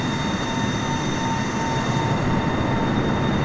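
Broadband roar of a Boeing 747-8i in flight in a flight simulator video game, a steady loud engine and airflow wash with faint tonal whines throughout and no distinct gear retraction clunk standing out.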